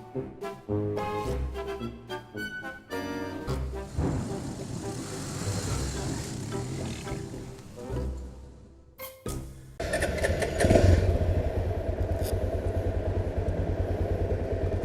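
A KTM 790 motorcycle engine runs with a rough, uneven mechanical drone that rises and falls, then after a brief dip swells louder and steadier, broadband and close, with some talk mixed in.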